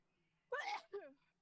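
A single sharp sneeze, close and loud, with a brief two-part burst over a quiet room hum during a tabletop game session.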